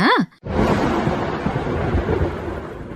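Heavy Ashadha-season monsoon rain pours down in a dense, unbroken roar after a brief breathy voiced sound at the start, with a low rumble suggesting thunder underneath.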